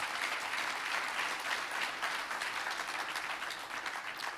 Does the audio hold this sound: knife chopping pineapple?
no